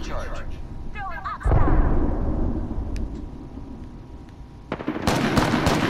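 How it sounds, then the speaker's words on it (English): Gunfire from enemies in a shooter video game crackles in rapid bursts, with a heavy blast midway and sharp shots returning near the end, amid dense game noise and a voice talking. "The enemies are shooting at me."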